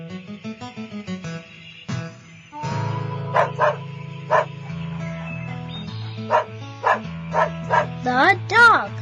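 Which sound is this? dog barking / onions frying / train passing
dog barking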